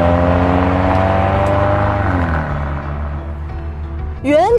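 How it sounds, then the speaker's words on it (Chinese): A green car's factory exhaust gives a loud, close engine note, holding a steady pitch before dropping off, then a short sharp rise in revs right at the end. "当然最令我心动的无外乎就是这个排气声浪"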